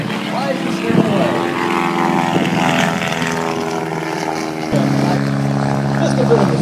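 Propeller airplane performing a fully developed spin and recovery at the Oshkosh airshow, a loud, continuous droning engine with shifting pitch, and a commentator talking over it on a public address system.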